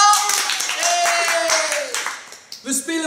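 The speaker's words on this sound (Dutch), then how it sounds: "Applaus voor mama!" A family clapping hands at home during a board game, a short burst of claps mixed with cheerful voices and a quick cheer near the end.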